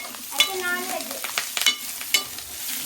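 Curry leaves sizzle and crackle in a pan with fried eggs and taro root, giving a close, steady frying hiss broken by stirring scrapes and brief pops.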